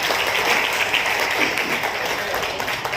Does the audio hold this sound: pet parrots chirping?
no